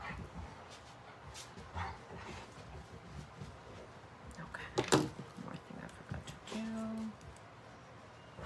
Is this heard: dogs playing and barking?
yes